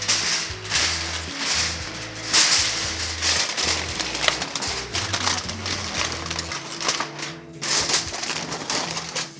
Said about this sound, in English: Now we're going to cover this with aluminum foil.